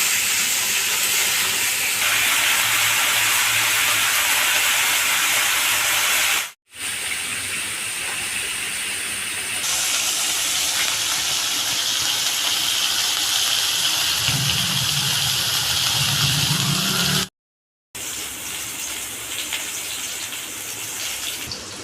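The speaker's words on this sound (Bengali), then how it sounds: "তেলটা গরম হয়ে গেছে, এবার আমি ফুলকপিগুলো ছেড়ে দিচ্ছি। ফুলকপিগুলো ভালো করে ভেজে নেব।" Cauliflower florets frying in hot oil give off a steady, loud, hissing sizzle that lasts throughout, with brief drops to silence at two points. No one speaks.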